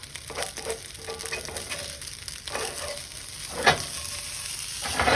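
Rice crisping in a hot pan for white fried rice sizzles steadily throughout, with occasional scrapes and a brief louder clatter near the end, no voices.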